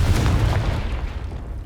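Confringo blasting spell exploding in Hogwarts Legacy, a loud deep boom that fades into a rumbling tail over under two seconds.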